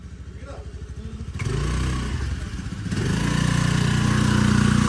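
A scooter engine runs steadily on a rainy day near a field, its mid-pitched motor rising louder and fuller after a couple of seconds, with people talking over it.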